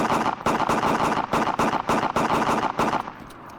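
A full magazine emptied at a bloodsucker mutant in DayZ: a rapid series of about ten loud, sharp gunshots in steady rhythm, close by, stopping abruptly near the end.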